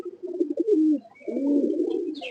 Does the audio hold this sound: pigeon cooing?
yes